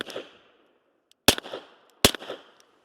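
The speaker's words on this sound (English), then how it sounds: "let's go ahead and take another shot into the berm" Suppressed shots from a Lunar 9 pistol fitted with a Gemtec suppressor, fired into a dirt berm outdoors. A sharp report is partly heard at the start, then two more follow less than a second apart, each with a short echoing tail.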